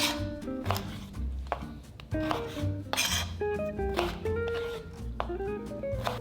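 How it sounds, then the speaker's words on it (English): A knife chops tangerine peel slices on a board in a series of quick, close cuts and scrapes, with steady background music underneath. "Now we can cut each slice into 4."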